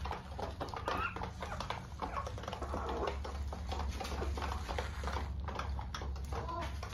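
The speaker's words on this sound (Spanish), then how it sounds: "Y eso que son ya gallinas grandes" Large adult hens clucking in a coop, a dense steady chorus of overlapping clucks and scratchy chatter close by, continuous over a low hum throughout.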